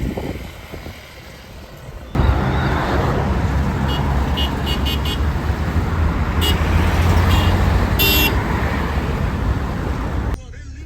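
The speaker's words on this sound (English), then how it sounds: "You are not familiar with the insane traffic that happens here." Busy street traffic in Lima, Peru: a steady roar of cars and engines close by, with scattered short horn toots cutting through and faint voices mixed in.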